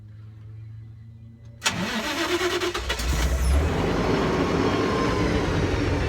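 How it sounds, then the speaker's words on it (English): A CNG-fueled truck engine cranks and catches abruptly, then settles into a loud, steady idle that keeps running close by. "running the truck until basically it runs out of fuel in all the system"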